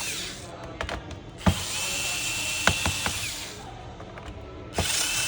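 A small electric screwdriver whirs as screws come out of the base of a Toshiba Portege R930 laptop, with several sharp clicks and brief bursts of high whine, close up and with no talk.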